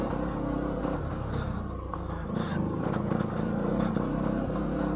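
Motorcycle riding off-road on a rough trail, its engine a steady close rumble with bumps and jolts from the uneven ground, wind buffeting throughout.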